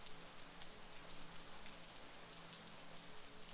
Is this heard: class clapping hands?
no